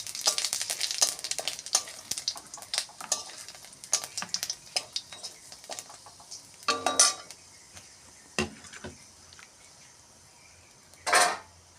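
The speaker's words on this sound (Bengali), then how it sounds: "এতে ফোড়ন দেবো শুকনো লঙ্কা আর পাঁচফোড়ন।" Dried red chillies and panch phoron tempered in hot oil for a Bengali dal with jackfruit seeds and stalks, giving a steady close sizzle with scattered clinks of a spoon against the pan and a sharper burst near the end.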